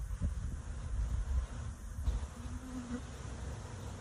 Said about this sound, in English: That's more bees than I put in there.